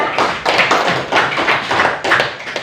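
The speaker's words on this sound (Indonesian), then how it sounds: "Tepuk tangan untuk kelompok 3." A classroom group bursts into quick, close applause for a group of students, a short rapid patter of hand claps.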